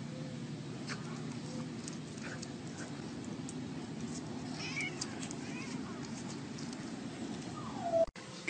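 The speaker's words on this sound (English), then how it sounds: "Look at the cat." A cat meows a few times amid a noisy household scene with dogs and cats playing, with steady background rumble and a brief sharp noise near the end.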